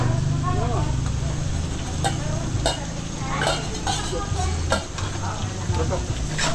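Seafood belly pieces fry in butter with garlic and onion, a steady close sizzle with stirring that runs unbroken under people talking nearby.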